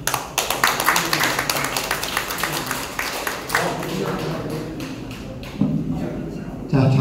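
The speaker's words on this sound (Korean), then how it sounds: "큰 박수로 맞이해 주십시오." An audience at a calligraphy exhibition event claps in sharp, distinct, uneven hand claps that thin out over several seconds, with voices talking underneath.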